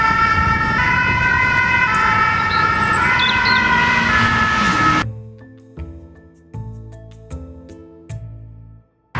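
An ambulance siren wails loudly and close near a hospital in Pau, France, over road traffic, then cuts off abruptly halfway, leaving a few quiet knocks and engine sounds.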